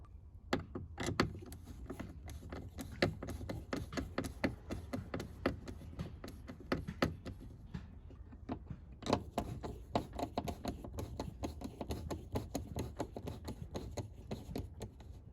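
Bolts on a Nissan 350Z door are backed out with a Phillips head screwdriver in a garage, giving a dense, continuous run of close ratcheting ticks and scrapes that pauses briefly near the middle and then resumes, with no voices.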